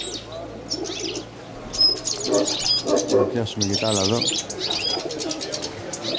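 Pigeons coo in a rolling, throaty rhythm alongside sharp chirps and a flutter of wings, close and fairly loud, while someone speaks over them.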